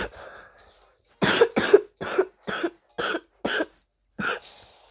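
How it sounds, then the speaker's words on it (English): A person coughs in a quick series of about seven sharp, close bursts after a faint breathy moment, with short gaps between them and a little throat noise. "Sorry, guys, I'm coughing"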